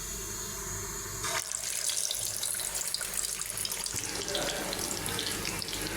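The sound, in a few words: beef kebabs frying in hot soybean oil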